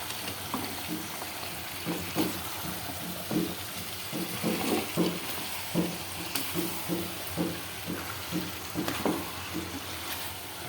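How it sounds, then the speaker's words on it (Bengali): Spices and cut potatoes being sautéed together in a pan for biryani, giving a steady low sizzle with repeated soft stirring scrapes in a loose rhythm, no voices. "এখন আমি আরও কষাবো"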